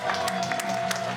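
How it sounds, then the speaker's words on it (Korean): Applause from adults at a children's graduation ceremony, a steady wash of many hands clapping indoors, fairly loud and continuous with no voices over it. "박수."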